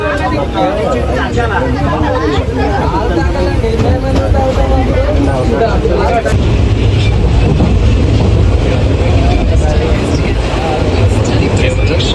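Loud, constant rumble of a moving, crowded Tirupati to Puri passenger train, with wheels clattering and a busy babble of voices around inside the carriage.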